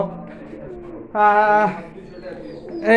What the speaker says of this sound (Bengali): এই পাশে আরও কিছু কবুতর আছে আপনাদের দেখানোর চেষ্টা করব